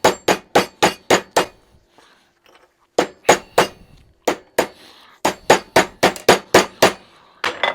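Repeated ball peen hammer strikes on a metal glove part resting on a half-inch-thick table, coming in loud, close bursts of sharp rhythmic blows separated by short pauses.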